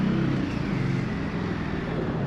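An Indian Scout Rogue motorcycle rides along with its exhaust droning, a steady low rumble close by that holds loud and constant under passing wind noise.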